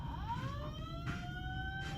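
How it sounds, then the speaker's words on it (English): Simplex fire alarm sounding during a test, a rising electronic tone followed by a sustained whooping horn signal, moderately loud and heard alone without talk. "That activated the alarm."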